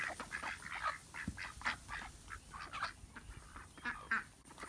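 Ducks and chickens call and quack in a steady, busy chatter while being fed split garden tomatoes, with repeated nasal honks and clucks at close range and no talk.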